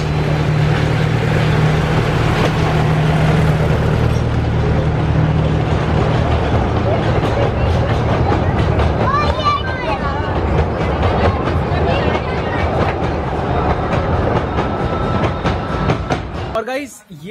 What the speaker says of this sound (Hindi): अभी आई थिंक टॉय ट्रेन आ रही है,